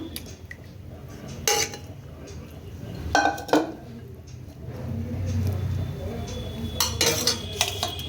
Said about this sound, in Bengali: বাকি রাইসটাও আমি এতে ঢেলে দিচ্ছি